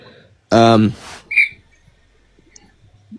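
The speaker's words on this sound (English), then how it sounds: "somebody in the background, like blowing a whistle" A short, bright whistle-like tone sounds faintly in the distance after a brief burst of voice, then fades into quiet background.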